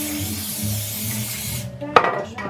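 Cooking spray hissing onto a pan outdoors, a steady close spray lasting over a second and a half, then a brief clatter as the can or pan is handled.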